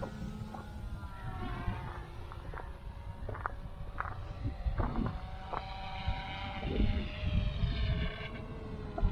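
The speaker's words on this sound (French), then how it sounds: "donc le drone fait son RTH. Voilà, il revient." A PowerEgg X camera drone flying back on automatic return, its faint, steady motor whine carrying from a distance over outdoor ambience, with scattered small knocks and handling noises close by.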